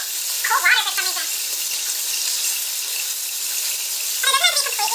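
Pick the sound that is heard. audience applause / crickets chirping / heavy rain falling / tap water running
tap water running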